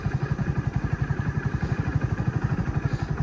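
A motorcycle ridden at low speed on a road, engine chugging in a steady pulsing rhythm, close and fairly loud, with no talk over it.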